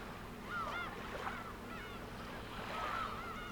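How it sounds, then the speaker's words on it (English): Seagulls crying in the video game Umineko, a few drawn-out gull calls spaced apart over a low steady ambient background, moderately loud. "are the seagulls too loud or what?"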